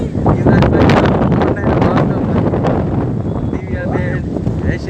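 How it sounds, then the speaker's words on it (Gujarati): Strong wind buffets loudly and continuously outdoors, a heavy roaring gust across the whole moment, with voices talking over it. "જો પવન બહુ જોરદાર છે"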